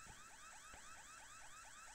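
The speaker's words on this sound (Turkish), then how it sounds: "Alarmları çalıyor." A bank alarm in the Roblox game Southwest Florida rings with a rapid, repeating warbling electronic tone, steady and continuous, with no voices.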